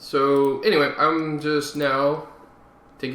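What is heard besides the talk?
No everyday noise stands out behind the speech.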